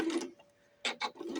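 A sewing machine stitches the waistband of a small doll skirt, quick whirring bursts close by, separated by a brief quiet pause before two more short runs.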